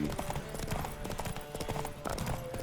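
Galloping horse hooves in The Witcher 3 on PS5, a steady rapid clip-clop rhythm that runs continuously and close up, with game sound layered around it.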